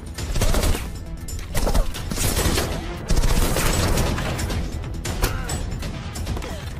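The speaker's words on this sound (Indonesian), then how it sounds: "terjadilah tembak-tembakan" Heavy, sustained gunfire in a film shootout, with rapid bursts and crashing impacts, loud and chaotic throughout.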